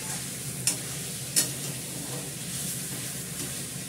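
Meat frying in hot oil in a pot while being stirred, a steady close sizzle with two sharp scraping clinks of the spoon against the pot.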